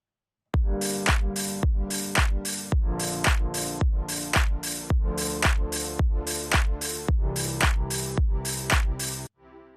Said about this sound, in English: Now let's add in a pad with the same chords as the bass.